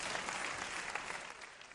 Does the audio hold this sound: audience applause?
yes